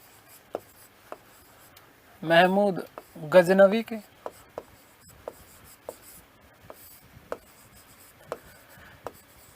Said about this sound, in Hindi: चलिए मैं लिखता हूं